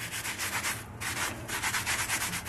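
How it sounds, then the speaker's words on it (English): Steady back-and-forth scrubbing on the back of a rusty cast iron cornbread pan, a rasping rhythmic rub repeated in quick strokes with one short pause, close and moderately loud with no talking. "I have scrubbed the back a bit"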